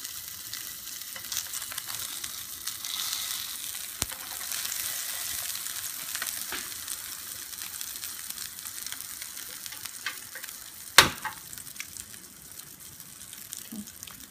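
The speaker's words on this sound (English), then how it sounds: "Just gonna wait till it fries on both sides really well." An egg frying in a pan makes a continuous, even sizzle close by that carries on steadily, with one sharp click partway through and a few faint scrapes, and no one talking.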